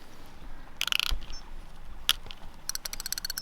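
Drag being loosened on a new fishing reel: bursts of rapid ratcheting clicks, close and crisp, with a single sharp tick between them and a final run of quick clicks.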